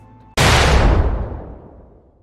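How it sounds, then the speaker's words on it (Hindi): A single loud explosion, from a booby-trapped apple, bursts suddenly after a quiet moment, then its rumble slowly fades over about two seconds. "आपने जो एप्पल उठाया था वो एक्सप्लोड हो गया"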